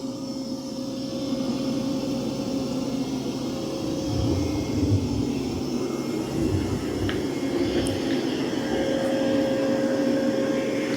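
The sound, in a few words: Dreame Matrix 10 Ultra robot vacuum cleaning floor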